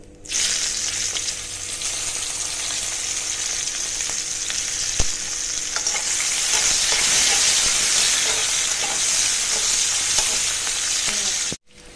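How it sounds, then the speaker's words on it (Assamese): Onions sizzle loudly in oil in a pan for an Assamese borali fish curry, a constant close hiss with occasional stirring clinks and a sharp tap midway before cutting off abruptly. "হৈ গ'ল, এতিয়া পিঁয়াজ দি দিম।"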